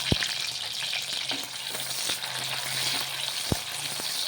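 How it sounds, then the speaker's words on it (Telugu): Onions sizzle steadily in hot oil in a pan, a close, continuous frying hiss with a few sharp clicks from stirring, and no talk over it. "ఆ ఆయిల్ వేడిన తర్వాత ఇప్పుడు ఉల్లిగడ్డలు వేసుకుందామండి."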